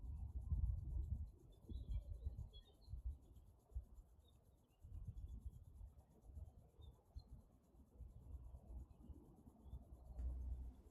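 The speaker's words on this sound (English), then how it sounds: "Begin by rubbing your hands together to bring the energy to the hands." Palms rubbing briskly together at the start of a standing qigong routine, a soft, steady dry swishing friction close by, running in uneven bursts with brief pauses and no talk.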